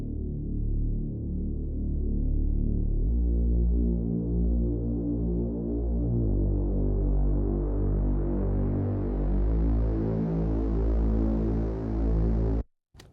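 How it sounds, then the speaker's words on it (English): A Reese synth pad holds thick, buzzing low chords while a high-cut EQ slowly opens, so the tone moves from dark and muffled toward brighter and fuller, sustained and alone before cutting off abruptly at the end. "But this Reese pad sounds really good."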